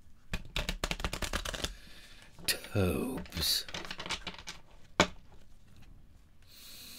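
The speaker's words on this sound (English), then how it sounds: "Okay, one more shuffle, one more shuffle." Tarot cards are riffled and shuffled by hand close up, a quick run of crisp flicking snaps followed by a rustling bridge and a few slaps, with a brief spoken word.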